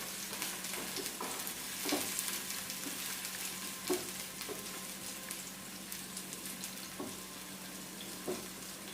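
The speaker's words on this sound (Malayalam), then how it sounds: "നമ്മൾ അരിഞ്ഞു വെച്ചിരിക്കുന്ന ചുവന്നുള്ളി ഇട്ട് കൊടുക്കാം. അതിനുശേഷം നമുക്കൊന്ന് ഇളക്കി കൊടുക്കാം" Sliced shallots frying in a pan, a continuous soft sizzle broken by occasional scraping knocks of a spoon as they are stirred, quiet and fairly close.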